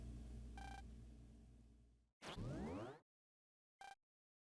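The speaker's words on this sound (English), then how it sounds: "Phone call." Incoming phone call in Mega Man Star Force 2: a game tune cuts off, a rising electronic sweep follows, then a short tonal beep rings out alone against silence.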